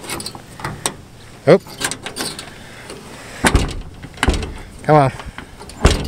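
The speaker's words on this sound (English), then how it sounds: "Here's a trick for the door. You push down. Push down and pull." The stiff door of an old, cheap Chevrolet S10 pickup is pushed down and pulled, producing several metallic clunks and creaks spread across the clip, mixed with a man's muttering.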